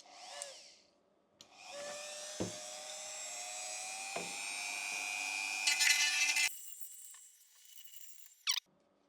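A high-pitched rotary tool with a sanding bit whines as it grinds against a 3D-printed plastic pickup model, the pitch climbing and squealing before cutting off, with short scraping bursts and pauses.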